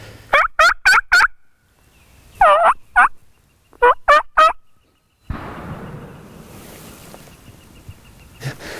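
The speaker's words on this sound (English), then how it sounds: "there was initial gobbles from the shot" A wild turkey in a Massachusetts field on hunting season's opening day gobbles in three quick clusters of rattling calls, clear and moderately distant outdoors, followed by a steady rush of ambient noise.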